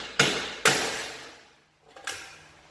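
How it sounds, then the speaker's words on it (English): A big hammer strikes a stuck wheel bearing on the rear hub of a 2014 Chevy Impala: two sharp impacts in quick succession, a pause, then a softer double knock. Each hit is close and hard with a short ringing decay. "So I'm gonna tap it with the big fucking hammer and see what happens here."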